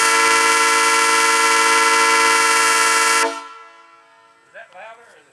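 A train horn blown through a rear-of-train brake valve gives one loud, steady, multi-tone blast lasting about three seconds and then cuts off, followed by quiet background and a brief voice.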